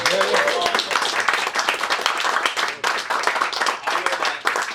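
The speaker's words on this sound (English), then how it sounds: "can we just give a round of applause for the team that put this whole thing together?" An audience at a film festival Q&A applauds the team behind the event, with dense, sustained clapping from a full room and a few louder individual claps through the ovation.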